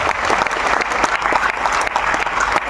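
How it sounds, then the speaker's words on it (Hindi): Audience in Krishna Memorial Hall, Patna, bursts into loud, steady applause at a DXN training meet-and-greet, a dense continuous clatter of many hands filling the room. "सो आप सभी के लिए एक जोरदार तालियां लेडीज एंड जेंटलमैन।"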